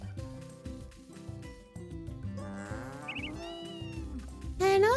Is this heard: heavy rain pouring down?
no